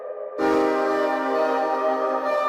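The Arturia Pigments 6 sampler with granular synthesis added: after a brief quieter tone, a dense, shimmering sustained chord swells in and holds steady, textured with fine grainy detail, with no voices present.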